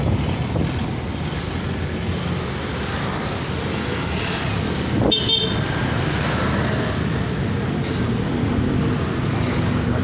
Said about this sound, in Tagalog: Traffic. Grabe ang traffic.